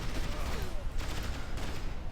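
Guard tower gunfire in the strategy game Rise of the Reds: a dense, continuous crackle of rapid distant shots and bursts forming a steady fusillade, with no talking.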